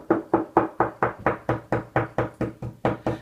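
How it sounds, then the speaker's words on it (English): Knuckles rap along a plasterboard wall while searching for the timber battens behind it, about a dozen even, hollow knocks in a steady rhythm, close and clear with no talking. "The best way to find out where the battens are on your wall is to use our faithful knocking technique."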